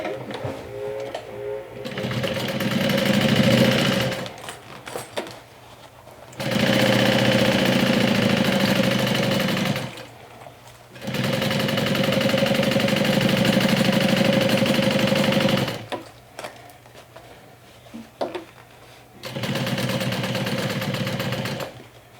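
A sewing machine top stitching a backpack runs in four loud, sustained bursts of fast, droning needle motion, separated by short pauses with quiet handling noises.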